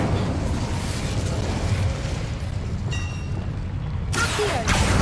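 In the Hogwarts Legacy video game, an Incendio fire spell goes off with a loud, dense roaring burst of flame. A sharper crackling flare follows near the end.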